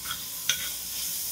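Bay leaves, herbs and seasonings saute over direct heat at the bottom of a pot, giving a steady close sizzle with a soft stir and one brief scrape midway.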